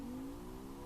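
Car engine exhaust from the video game Turbo Esprit, a steady low droning engine note that holds throughout a brief moment, loud and close, with no talk over it.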